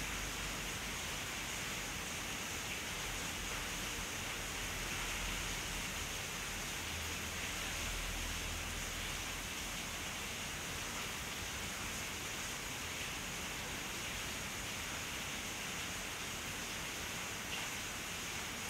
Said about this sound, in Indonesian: Itu suara hujan tau kipas, ini suara hujan.